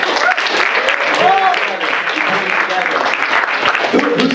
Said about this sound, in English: All right, give Nick a big hand.